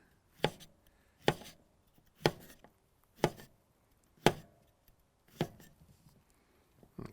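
A knife slices through cucumber halves on a cutting board for a cold cucumber salad: six crisp, close chops at an even, unhurried pace, about one per second, with no talking.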